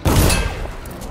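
A single heavy gunshot for a headshot in Dishonored, one loud close boom with a thick low thump that quickly fades into a brief echoing tail.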